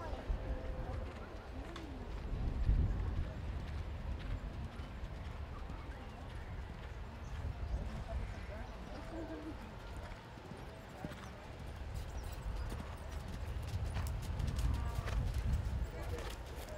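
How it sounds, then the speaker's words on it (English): Horses canter around an arena during a 4-H horse and pony equitation class, hooves drumming in loose rhythm at middle distance, with a voice calling over a loudspeaker and birds chirping faintly. "Canter your horse, please."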